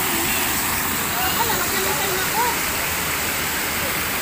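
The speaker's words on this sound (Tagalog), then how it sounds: "running pool, running water" Running water fills a natural hot spring pool at Camp Silva, Calauan, Laguna, as a constant close hiss and rush, with faint voices blended into the steady flow.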